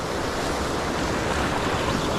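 Ocean waves washing onto the shore during fishing, a continuous broadband rush of surf mixed with wind noise on the microphone, steady and fairly close.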